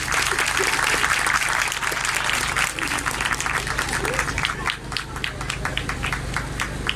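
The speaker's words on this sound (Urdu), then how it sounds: "پرزور تالیاں بجائیں خدا کے جلال کے لیے." A church congregation claps loudly for God's glory during a pastor's sermon, dense, vigorous applause that gradually thins into more distinct, rhythmic claps toward the end, with a low hum beneath.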